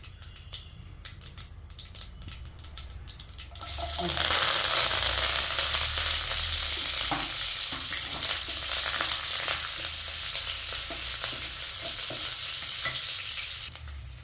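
Mustard seeds, shallots and curry leaves hit hot sesame oil for a brinjal kulambu. A few seconds of light clinks and stirring give way to a loud, continuous sizzle and crackle that runs to the end.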